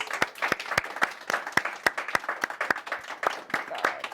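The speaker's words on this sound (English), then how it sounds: "Everyone give her one more round of applause, please." A talk show audience applauds a departing guest, with lively, close clapping and frequent sharp, rhythmic claps, and a hint of voices mixed in beneath.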